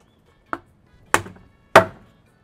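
Knife cutting through roast barracuda on a board in a Trinidad kitchen, three distinct sharp chopping knocks spaced about half a second apart, each louder than the last, close and with no voices.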